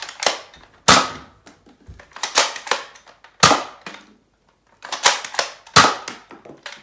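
A Zuru X-Shot Bug Attack Swarm Fire toy blaster fires in loud, sharp snapping shots, some single and some in quick clusters, close up, with a brief pause between bursts.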